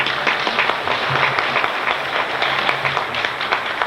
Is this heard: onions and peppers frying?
no